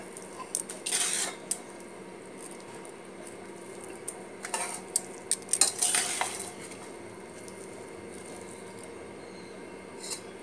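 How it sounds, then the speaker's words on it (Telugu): A spoon stirs tamarind rice (pulihora) in a metal pot, making a few scraping, clinking bursts over a quiet background, close by and with no talk. "ఇంకా కలిపేసుకోవటమే అనమాట."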